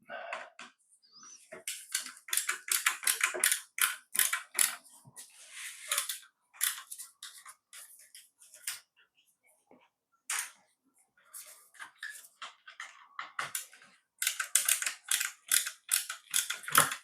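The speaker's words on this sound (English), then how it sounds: "a couple more screws to undo." Screws are undone while a hedge trimmer is dismantled, giving quick clicking, ratcheting bursts of a screwdriver close by, in irregular clusters separated by short pauses.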